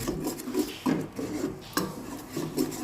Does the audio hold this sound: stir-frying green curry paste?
yes